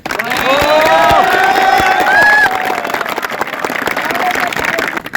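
Crowd at a CRPF training centre retirement function cheering and clapping: a loud, sustained roar of shouts and whoops over dense applause that holds steady for several seconds before easing slightly.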